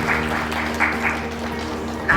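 An indoor audience at a school teachers' workshop claps steadily in a dense, even patter of many hands, moderately loud, with faint voices underneath.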